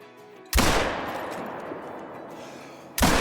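A rifle shot, a .270, fired at a whitetail buck while hunting in the video game Call of the Wild: two sharp, loud blasts, one near the start with a long rolling echo, then a second blast at the end.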